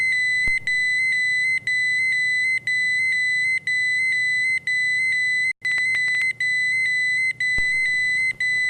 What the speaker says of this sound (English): The alarms should activate.